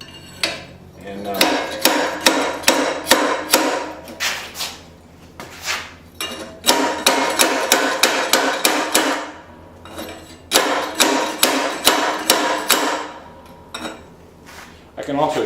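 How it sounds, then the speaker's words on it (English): Sharp metallic hammer strikes seat the guard on a forged Bowie knife, coming in fast rhythmic bursts of many close, loud blows separated by short pauses. "I can also strike it with a hammer if I need to"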